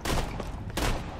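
A shotgun firing in the video game Borderlands 2: two heavy, loud blasts in quick succession, each with a short booming tail, close up and alone.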